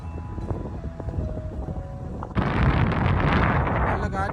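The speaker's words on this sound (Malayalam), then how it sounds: "നല്ല കാറ്റും ഉണ്ട് തന്നെയുള്ളൂ" Strong wind gusts buffet the microphone on an Australian beach at Wellington Point, Queensland, swelling into a loud roar partway through, with a voice faintly audible underneath.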